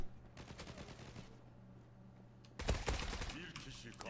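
Video game gunfire: after a quiet stretch with faint background voices, a sudden loud burst of rapid shots erupts near the end, sharp and close.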